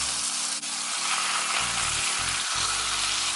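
Steak searing in a pan with garlic gives a steady, loud hiss and sizzle throughout, with tonal background music underneath.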